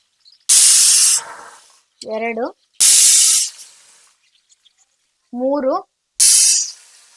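Pressure cooker on a gas stove cooking black-eyed peas, three loud hissing steam bursts of about a second each, with a voice speaking briefly between them.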